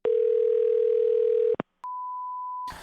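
A telephone dial tone sounds steadily for about a second and a half while calling a coin shop, followed by a short click, a clean single beep tone, and then a faint burst of line noise.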